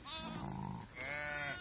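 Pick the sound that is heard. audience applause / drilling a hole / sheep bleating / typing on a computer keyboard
sheep bleating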